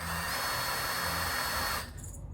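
A power drill whines steadily at close range for about two seconds while drilling into wood, then cuts off abruptly, leaving a faint rattle.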